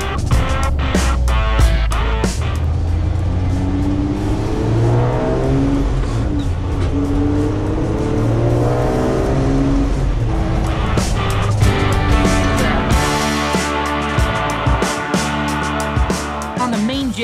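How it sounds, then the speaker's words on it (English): A supercharged Toyota FJ40 LandCruiser out on a test drive, its engine revving up and down through repeated accelerations and gear changes, loud and close for the whole stretch, with tire noise and a faint voice in places. "We're gonna go on the first test drive and just see how it runs."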